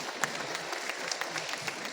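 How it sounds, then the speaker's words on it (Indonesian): Audience applause at a religious gathering honoring two guests, a soft, distant patter of clapping lasting briefly and evenly without speech. "Tepuk tangan dulu untuk beliau berdua."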